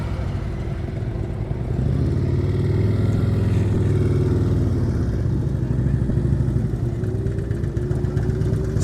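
A motorcycle rolls slowly through a cone course at an advanced slow-speed riding practice in Florida, its mid-pitched engine humming steadily and close by, holding an even low drone throughout before easing to a smooth friction-brake stop.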